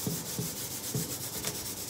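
An old suitcase surface is sanded by hand, giving soft, rhythmic scratchy rubbing strokes, each stroke a brief rasp repeating at a steady pace, close and fairly quiet.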